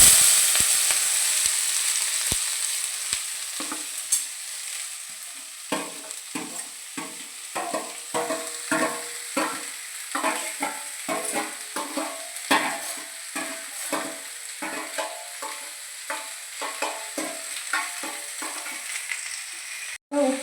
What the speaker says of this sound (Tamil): நம்ம வெட்டி வச்சுருந்தா உள்ளி, தக்காளி, பச்சை மிளகாய் எல்லாத்தையும் இப்போ நம்ம கிண்ட போகிறோம்.